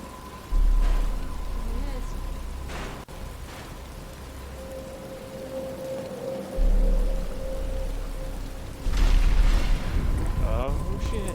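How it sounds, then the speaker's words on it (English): Rain falls as a steady hiss in Batman: Arkham Asylum, with deep rumbling bursts swelling and fading and game character voices talking over it. "But it's starting to rain."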